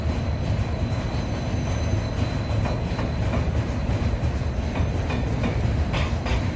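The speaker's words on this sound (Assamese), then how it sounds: "এই ট্ৰেইন আহিছে ৰ'ব চাওঁ এই ট্ৰেইন এইখন কি মালগাড়ী নেকি মালগাড়ী হয়" A freight train rumbles steadily past near Deepor Beel wetland, a dense continuous roar of rolling wagons with faint clickety-clack and metallic squeal at the top, loud and close throughout with no talk.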